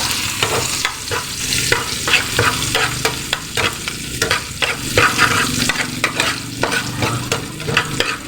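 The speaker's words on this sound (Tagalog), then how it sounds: "mag-gisa na tayo mga lods para sa ating fish steaks na tilapia" Garlic sautéing in a pan for tilapia fish steak sizzles loudly and continuously, with repeated stirring scrapes of a utensil at a close, busy rhythm.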